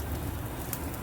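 Aloo tikki frying in a pan over a low flame gives a brief, soft, steady sizzle and crackle like light rain, with no talking.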